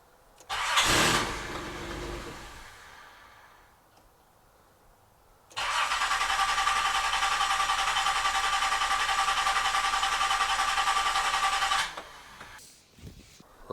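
The engine of a Nissan 300ZX Z31 cranks after a fuel pump replacement. A short starter burst is followed by a pause, then a long, steady whirring crank of about six seconds that stops without a clear catch, loud and close.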